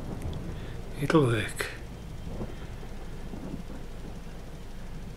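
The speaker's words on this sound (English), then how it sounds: "We'd like the rain a bit lighter" Rain falls and thunder cracks in the video game Farming Simulator 22. A loud rumbling burst comes early, then steady rain continues underneath a voice.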